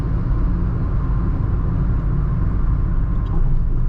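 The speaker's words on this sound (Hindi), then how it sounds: "ऑल राइट, रोड नॉइज़ काफ़ी कंट्रोल्ड है" Steady low road rumble fills the cabin of a Tata Altroz DCA cruising on the highway, an even, continuous drone with no talk.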